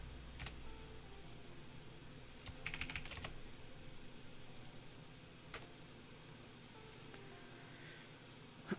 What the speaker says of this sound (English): Done typing back to YouTube chat